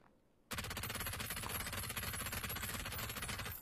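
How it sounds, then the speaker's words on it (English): VSS rifle firing in a video game, a rapid sustained burst of fast, evenly spaced shots that starts abruptly after a brief quiet moment and continues without pause, fairly loud and close. "Bro, this fucking VSS guy hit all the bullets at me."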